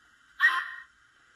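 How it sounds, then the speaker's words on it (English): Sound-fitted Bachmann Fairburn Class 42085 model steam locomotive with DCC giving a single short whistle toot, clear and close over a faint background hum. "So now we're going to try the whistle,"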